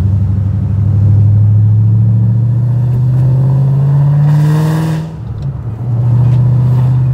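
A 2009 Ford Shelby GT500 accelerates hard on the road, its engine note climbing steadily in a loud, close drone before a brief dip at the shift, then pulling again.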